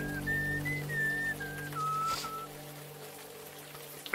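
Someone whistles the old tune Lowlands Away in a video game, a clear wavering melody of several sustained notes over soft rain and a low drone, fading out after about two seconds.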